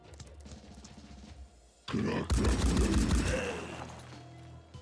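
Turret returning gunfire in the tactics video game Phoenix Point: after a low, steady hum, a loud burst of shots and crashing impacts breaks out and then fades back into the background drone.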